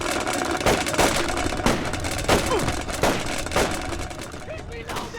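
Gunfire from the video game Splinter Cell Chaos Theory comes as a string of sharp repeated shots spread over a few seconds, with a shouting voice over a noisy battle backdrop.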